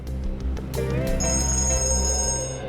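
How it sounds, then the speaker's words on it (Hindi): A bright electronic ringtone trills steadily from start to end, with a low hum underneath and no talk. "एक मिनट, फोन आ रहा है।"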